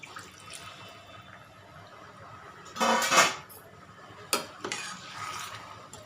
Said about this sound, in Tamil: இப்போ நம்ம இதில் தண்ணி விட்டுக்கலாம்.